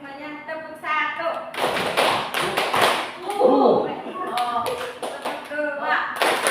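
A group claps together in a rhythmic pattern in a meeting room, several sharp bursts of clapping alongside a voice speaking over them.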